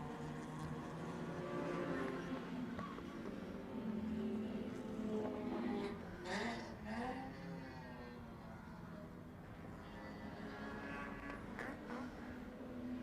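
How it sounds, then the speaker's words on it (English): Super truck race engines at Levels Raceway in New Zealand, a faint, distant blend of several engines droning and shifting pitch as trucks pass, with brief louder surges, under race commentary. "Car number 8 sounds pretty good, that one."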